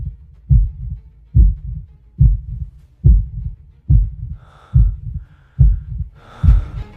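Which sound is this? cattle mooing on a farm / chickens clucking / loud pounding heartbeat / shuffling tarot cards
loud pounding heartbeat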